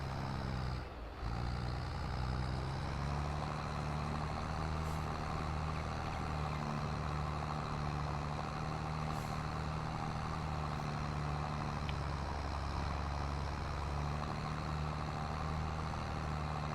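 A farm tractor engine idles steadily in the Farming Simulator video game, a low, constant diesel rumble that holds at an even level throughout with no talking.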